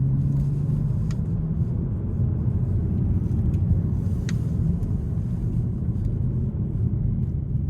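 Inside a 2026 Hyundai Sonata SEL Sport on the interstate, a steady low road and engine rumble fills the cabin, constant and moderately loud with no talking.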